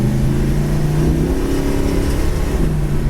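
A 1970 Plymouth Road Runner engine under way, a continuous loud drone with rising and falling revs from inside or close to the car, alone without talk.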